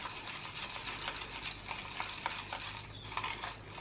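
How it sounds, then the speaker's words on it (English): Steady scraping and clinking of a utensil stirring a wax melt mixture in a bowl, close up, with soft repeated strokes and no voices. "So we'll stir that up."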